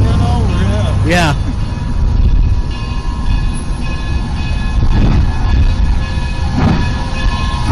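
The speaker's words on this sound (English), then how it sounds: "Be careful of the train, because it's departing." A departing train in Kerbal Space Program rumbles steadily and loudly, with a horn-like tonal blast early on and fainter tonal swells later, under a constant heavy mechanical roar.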